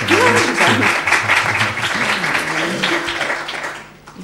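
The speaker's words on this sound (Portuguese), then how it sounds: "Com direito a palmas." An audience at a conference on spelling reform in the media claps for an introduced speaker, moderately loud applause mixed with a murmuring voice and low hum, tapering off near the end.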